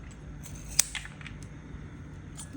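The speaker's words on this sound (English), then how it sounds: "I'm actually gonna cut those off while it's still a little warm" A single sharp snip of scissors trims the peaks off a still-warm, multicolored car freshie, followed by a few fainter cuts against a quiet background.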